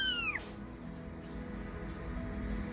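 A kitten gives one short high-pitched meow that slides downward, sharp and close at the start, followed by quiet low background noise.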